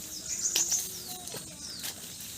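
Jungle birds near Mumbai give a few short, high chirps and whistled notes, faint and scattered over quiet ambient background.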